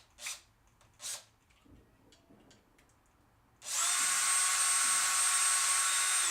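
A power drill bores into the soft die-cast metal body of a Hot Wheels toy car, kicking in as a loud, steady high whine after a few faint knocks and handling sounds.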